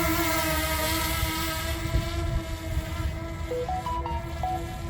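A camera drone lifts off and flies, its steady, high-pitched whining buzz loud and close throughout, with faint wind rumble beneath it.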